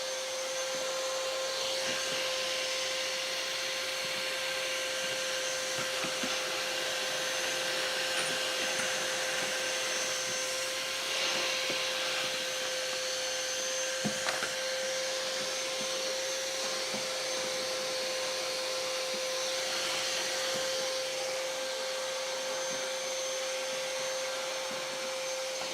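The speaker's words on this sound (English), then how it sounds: "Just trying to get my vacuuming done" A vacuum cleaner runs steadily inside a van being built out, a loud continuous whine with a strong steady tone, unbroken for the whole stretch with no talking.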